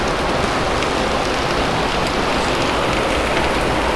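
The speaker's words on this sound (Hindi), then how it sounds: "इसलिए बारिश भी शुरू हो गई।" Heavy rain falls at Gupt Kashi in the mountains, a loud, dense, steady hiss of drops pattering on surfaces close by, with no voices.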